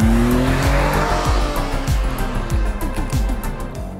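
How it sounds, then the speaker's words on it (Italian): Lancia Ypsilon Hybrid 2022 with its Firefly engine under full-throttle acceleration on a test track, a loud close engine note climbing through repeated gear-change steps with some tire noise, no talking over it. "siamo alla prova di accelerazione e vediamo se questo boost elettrico funziona davvero"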